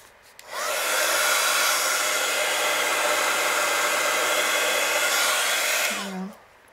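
A handheld hair dryer drying painted teabag artwork switches on, roars steadily and loudly at close range for about five seconds, then clicks off and winds down.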